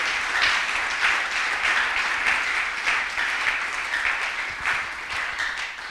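A church congregation applauds steadily and loudly throughout, a dense continuous clapping that swells and ebbs slightly without any talk.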